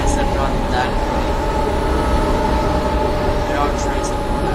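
Loud, continuous rumble and roar of a train in Train Simulator Classic on the Cataluña Exprés route, with steady low drone and a few faint higher squeals, heard close and unbroken.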